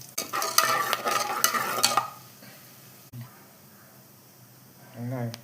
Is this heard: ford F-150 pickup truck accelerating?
no